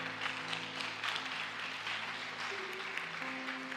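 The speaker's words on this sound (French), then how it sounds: "Acclame Jésus-Christ" A church congregation applauding during a worship service, a dense patter of clapping that rises and falls over sustained musical tones.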